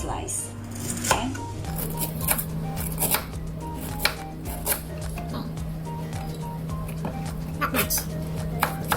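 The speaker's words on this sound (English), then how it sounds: "So what I'm gonna do now, slice the ginger." Knife slicing ginger on a board for oven-baked salmon, a run of crisp, irregular chopping taps up close, some sharp and some soft, over a faint steady hum and light kitchen handling noise.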